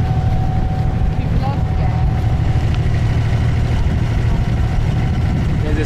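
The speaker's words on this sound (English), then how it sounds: "There's a speedboat coming behind us." Motorboat engine droning steadily as a speedboat runs close behind a small wooden abra on Dubai Creek, with continuous water and hull noise throughout.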